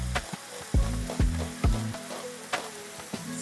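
Onions for a beef and spinach lasagna frying in a pan, a steady close sizzle broken by several sharp stirring knocks, with no talking.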